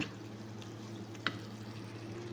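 Tomatoes and biryani ingredients are stirred in a pan: a soft sizzle with a low steady hum underneath, quiet scraping strokes, and one sharp clink of the utensil near the middle. No one speaks.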